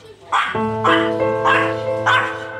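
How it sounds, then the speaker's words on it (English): A small dog barks four times in a steady rhythm, each bark loud, near and harmonic-rich, with faint background noise between barks. "Very noisy little dog."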